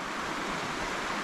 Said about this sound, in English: Little creek here.